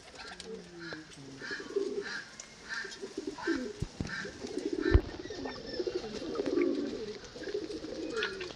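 Madrasi (Andhra) racing pigeons held for sale coo softly and repeatedly nearby in a gentle rolling rhythm, mixed with a few brief chirps and light background rustle.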